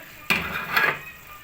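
Tomato paste cooking in hot ghee for chicken kadai, with two quick stirring scrapes and brief bursts of sizzle over a faint background.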